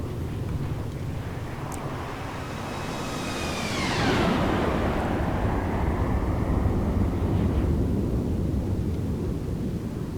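Boeing 777 flying past in the X-Plane 12 flight simulator, a jet roar swelling from a distant whine to a loud pass with a falling, sweeping engine tone, then fading into broadband rushing noise.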